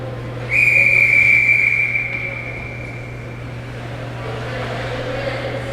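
A referee's whistle blows once, sharp and sustained, during an ice hockey game, then tapers off over a steady low arena hum.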